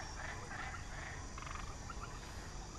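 A frog croaks in short, repeated calls, faint and partly buried under a steady wash of broadband outdoor noise, with no one speaking.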